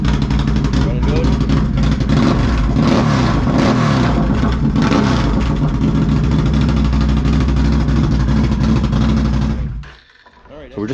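A car engine fitted with a tuner runs just after starting, with a loud, steady idle and a strong low rumble. It fades briefly near the end before picking up again, and voices can be heard over it.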